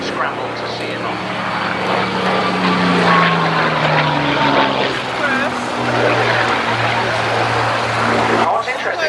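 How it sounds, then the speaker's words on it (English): A Hawker Hurricane fighter plane passes over an airshow airfield, its propeller engine droning loudly and steadily with a shifting pitch throughout, up close and continuous. "The Hurricane has been scrambled to see him off."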